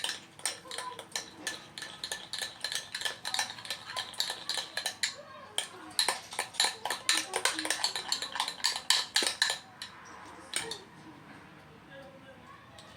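Foundation mixture stirred in a container, a quick run of clinking, scraping strokes with a steady rhythm, close and fairly loud, then slowing and fading. A voice speaks at times over the mixing.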